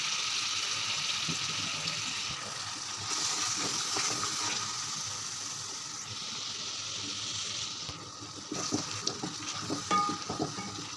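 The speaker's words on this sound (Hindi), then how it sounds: "और इस स्टेज पे हम थोड़ा सा पानी भी ऐड कर देंगे ताकि सारे मसाले अच्छे से भुन जाएं।" Water poured into sizzling chana dal masala in a pan, a steady fry hiss with a brief surge of bubbling and a few stirring clatters near the end.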